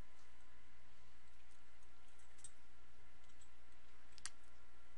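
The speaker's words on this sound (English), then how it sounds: "Let's double click on this and see how it goes." A computer mouse gives a couple of small, sharp clicks, faint and isolated against a steady low hum of a quiet room.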